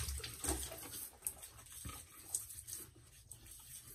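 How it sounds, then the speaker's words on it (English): Wet, squelchy swirling and bubbling of a shaving brush whipping soap into lather, close and fairly busy, with no speech. "And we will lather up."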